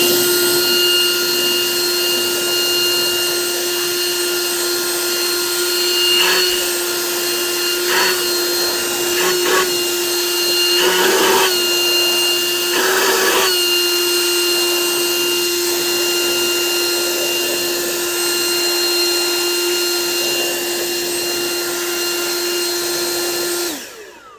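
An Osuka OCLB446-P1 leaf blower runs loud and steady with a high whining tone, holding constant for over twenty seconds before cutting off at the end.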